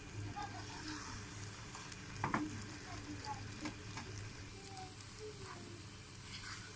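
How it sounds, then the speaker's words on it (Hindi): Semolina halwa being stirred with a spoon in a pan as it cooks, a steady sizzling, scraping texture with occasional louder spoon strokes running throughout, close and moderately loud. "चम्मच चलाते ही रहना है आपने।"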